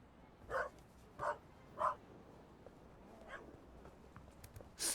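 A fast-running dog in The Raven Remastered gives three quick, evenly spaced barks at moderate distance, then a fainter yip and a final sharp bark, over a quiet background.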